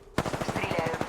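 Rapid automatic fire from a video game weapon, a quick string of evenly spaced shots starting abruptly and running close and fairly loud.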